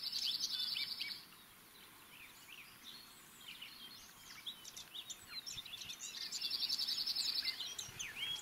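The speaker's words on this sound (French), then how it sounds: "d'autres oiseaux comme les citelles ou les cincles sont en pleine nidification." Nuthatches and dippers calling around a nesting site outdoors, with a run of quick, high chirps and twittering notes, some nearer bursts of rapid trills at the start and end over a soft steady background.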